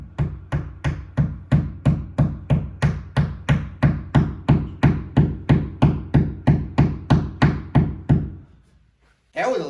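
About twenty-five steady, evenly spaced knocks tap on a hard surface, close and loud, then stop, followed by a brief noise.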